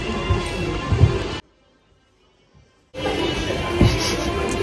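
A hailstorm with thunder and rain makes a dense, loud roar that cuts out into near silence for over a second, then returns just as heavily. No one speaks.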